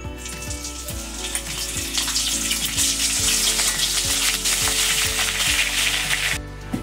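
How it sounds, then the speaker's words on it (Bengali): Onion paste frying in a pan of spiced oil with cloves and cinnamon for a Bengali prawn malai curry, a strong continuous sizzle that swells midway, with a steady repeating low hum beneath and no speech. "এখন দিয়ে দিচ্ছি পেঁয়াজ বাটা"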